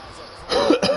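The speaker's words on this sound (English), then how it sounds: "This cough is ghetto." A person coughs during a live PS4 gaming broadcast: two harsh, close bursts, the second shorter, following a quieter stretch of room noise.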